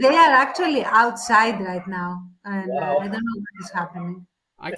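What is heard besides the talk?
No distinct noise like a dog, phone or traffic.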